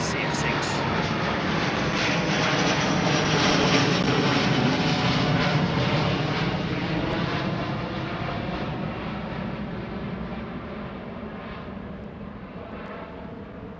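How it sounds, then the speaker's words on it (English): Delta Airbus A330 jet with CF6 engines flying high overhead near London Heathrow, a broad steady roar that swells then slowly fades over about fourteen seconds, with a voice talking over it. "Wow, she's high in the sky. It's Delta 330."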